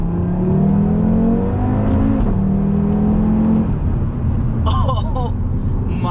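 A 2021 Audi TT RS in manual sport mode accelerates hard from inside the cabin, its engine note climbing steadily through the gears, with a brief voice near the end.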